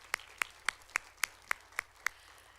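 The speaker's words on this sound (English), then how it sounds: "Let's give her another round of applause." An audience at a women's business conference claps, heard as eight single sharp claps spaced evenly and fairly close, standing out against a quiet room.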